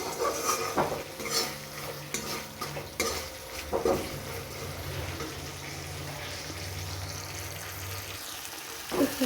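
Egg and potato curry fries in oil while a spoon stirs it, a soft continuous sizzle broken by several clanks and scrapes of metal against the pot.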